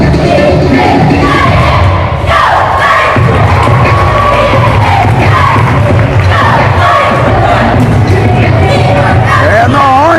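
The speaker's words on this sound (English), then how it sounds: "And the Hornet cheerleaders getting the crowd ready for this one." A packed crowd at a boys' high school basketball game cheering loudly with the Hornet cheerleaders, a dense roar of shouts and whoops, high voices rising and falling, continuous and close throughout.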